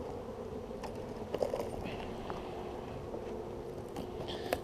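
Agitated honeybees buzz continuously during a hive inspection, a steady close hum with faint sharper flicks and light handling knocks throughout.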